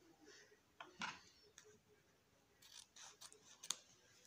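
Scissors cut through ribbon for a handmade ribbon flower, giving a few quiet, close snips spread across a hushed background.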